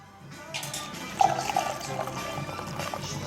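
Champagne pours steadily into a glass with a soft fizzing hiss, close and continuous for a few seconds.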